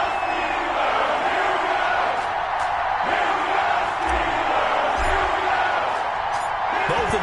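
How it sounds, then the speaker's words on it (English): Dense stadium crowd noise from an EA Sports NFL video game, Miami Dolphins versus Pittsburgh Steelers, rolls on steadily as a broad roar with occasional whoops and shouts rising from the mass. "This crowd is ready as their guys get set to match up between the Miami Dolphins and the Pittsburgh Steelers"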